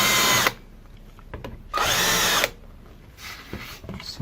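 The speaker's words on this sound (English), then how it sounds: "I will try to get that down by using my old countersunk bit" A power drill with an old countersink bit works a broken rear-view mirror bracket on a Honda Prelude, heard as three close, whining bursts of drilling separated by quieter pauses with faint handling noises.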